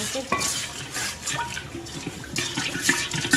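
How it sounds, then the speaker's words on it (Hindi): Water poured into a raw mango juice mixture in a home kitchen, with light clinks and scraping from utensils and a bowl, close and moderately loud, with no talking. "ये मेरे पास 2 गिलास पानी वेयर किया हुआ है वो मैंने इसमें ऐड कर दिया"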